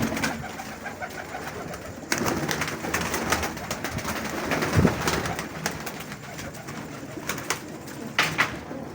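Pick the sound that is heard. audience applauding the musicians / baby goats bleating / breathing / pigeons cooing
pigeons cooing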